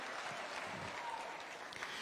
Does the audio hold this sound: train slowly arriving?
no